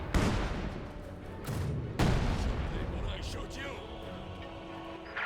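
Heavy gunfire and booming barrage in Company of Heroes 2, a World War II strategy game, rolling continuously with dense overlapping blasts and rumble, loud and sustained throughout.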